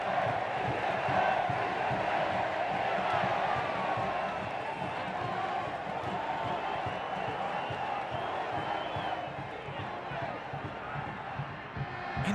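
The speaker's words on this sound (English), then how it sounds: "this crowd getting themselves up again" Stadium crowd at a Guatemala vs El Salvador Concacaf qualifier football match roars steadily, a dense wash of cheering and chanting that stays loud and continuous, with faint commentary beneath.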